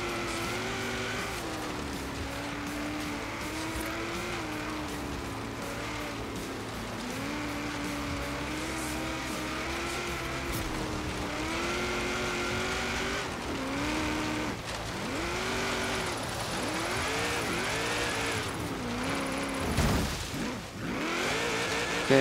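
Car engine in Forza Horizon 3 revving and shifting pitch steadily through a drift zone, with tire squeal and skidding rising and falling, loud and continuous with no talking.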